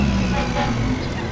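Car club cars roar past at high speed on a highway, engines rasping like chainsaws, a loud continuous drone with people talking underneath.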